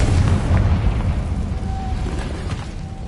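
A Confringo fire spell detonates in Hogwarts Legacy on PS5, a deep booming rumble that swells at once and lingers as a fading, crackling roar with a faint thin tone drifting over it.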